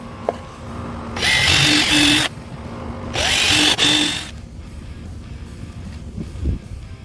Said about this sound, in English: you want to drill in the middle, of course.